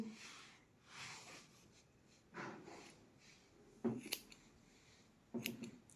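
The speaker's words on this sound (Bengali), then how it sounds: "দেখো আমি হেয়ারটা কিন্তু একই জায়গায় দাঁড়িয়ে কাটছি" Scissors cutting hair during a step haircut, a few quiet crisp snips spaced out over soft rustling, faint and close.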